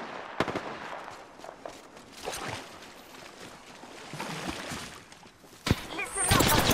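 Gunfire cracks in the shooter game Apex Legends, with scattered sharp shots, a loud burst near the end and softer distant pops, all over an ambient game background with a voice talking at times.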